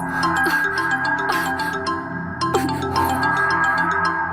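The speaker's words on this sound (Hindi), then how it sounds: "लो फिर फोन आ गया।" A phone ringtone plays a loud, continuous electronic melody of repeating chiming notes throughout.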